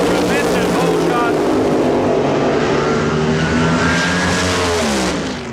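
Nitro-burning funny cars race at the 1982 NHRA NorthStar Nationals drag race with a loud, continuous, close roar whose rising and falling engine tones sweep across the stretch before it fades away at the end.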